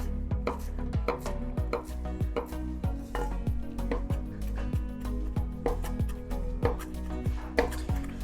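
A knife chops fresh cilantro on a cutting board for a Mexican street corn salad, giving steady, rapid close taps, some background music underneath, and no talking.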